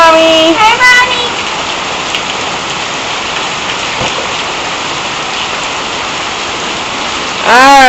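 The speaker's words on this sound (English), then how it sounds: "it really is some fierce rain out there." Heavy rain pours down steadily outdoors, a dense continuous hiss of drops on surfaces, loud and unbroken throughout, with a voice briefly audible at the start and end.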